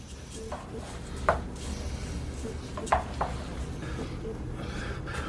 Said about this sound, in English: Then I got to mix this all up.